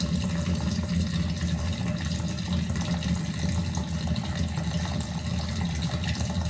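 Water runs steadily out of a small tap on a reef aquarium tank during a water change, a constant, moderately faint trickling and splashing flow with no talking.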